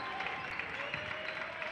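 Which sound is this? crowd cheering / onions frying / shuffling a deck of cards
crowd cheering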